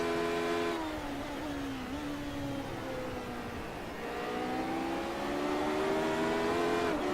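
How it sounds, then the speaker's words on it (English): Racing car engines in the iRacing simulator whine at high revs with shifting pitch, and a rough scrubbing hiss underneath from tyres sliding across the track; no one speaks. "You can hear the tyres scrubbing across the road there as Rob gets back on the power."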